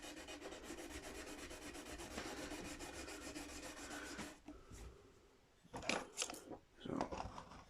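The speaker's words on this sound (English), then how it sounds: "just go straight on and polish the frets" Frets on a 1968 Gibson SG being polished: about four seconds of steady, close rubbing and rasping, then a quieter stretch broken by a few brief, sharper bursts of handling.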